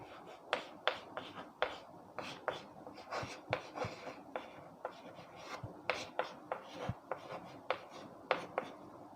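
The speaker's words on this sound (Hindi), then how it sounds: "तो वो सारी बातें हम लिखते हैं।" Pen strokes scratch across paper as notes are written down, sounding as quick, irregular taps and scrapes close to the microphone.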